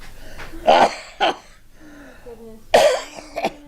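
A few sharp coughs, three main bursts spaced unevenly, close and fairly loud, with a soft throat-clearing sound between them.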